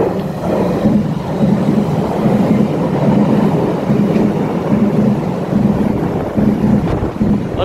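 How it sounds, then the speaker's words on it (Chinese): The Taroko Express tilting train, set TEMU1011+TEMU1012, passes close on Taiwan's North-link line toward Hualien. It makes a continuous loud rumble with regular wheel clatter, mixed with wind buffeting on the microphone. "有列车通过"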